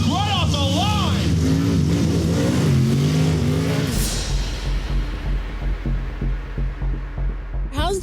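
Pro 2 race trucks launch off the line on a snowy track, several engines roaring and revving hard, loud and close, the pitch climbing then breaking into rough, pulsing acceleration, with a commentator talking over it.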